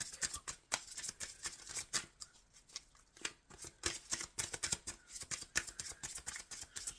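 Rapid, crisp riffling of tarot cards being shuffled, repeated flutters and taps over several seconds, close and fairly quiet.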